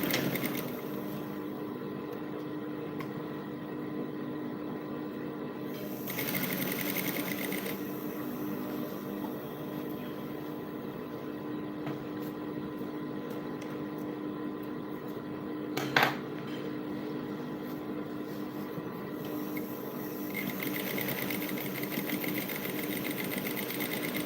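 A sewing machine back-stitches a brocade dress strap, its motor whirring steadily and evenly for a long stretch at close range, with a brief tonal shift partway through and a single sharp click near the end.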